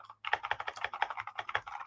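Fast, uneven typing on a Razer Pokemon-themed Black Widow V4X keyboard, a steady run of crisp, clacky keystrokes heard close up with no talking.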